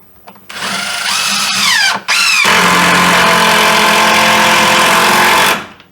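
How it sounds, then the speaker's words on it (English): A power drill drives 3-inch construction screws into wall board while a sagging wall is repaired, whining loudly and close in two bursts: a short one that winds down with a squeal, then a longer steady run that stops abruptly. "Now I just want to go ahead and secure it with some more screws."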